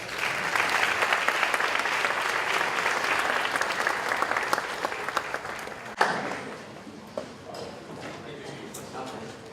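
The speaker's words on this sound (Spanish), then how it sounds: "Lo despedimos con un aplauso." Attendees at an international environmental prosecutors' summit panel applaud a departing participant; sustained clapping fades after about six seconds into scattered claps and a few knocks, with a voice speaking over the tail.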